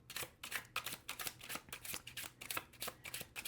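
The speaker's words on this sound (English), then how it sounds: "This shuffle is a little bit more difficult." Tarot or oracle cards riffled and shuffled by hand during a collective reading, a run of crisp, rapid papery bursts repeating close up with no talking.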